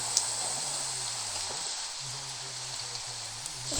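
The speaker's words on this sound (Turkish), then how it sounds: "Çok yağmur yağıyor." Heavy rain hisses steadily and densely with a low engine hum beneath it, a continuous wash of drops that swells slightly at the end.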